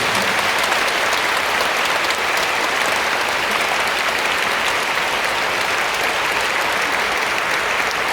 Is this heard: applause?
yes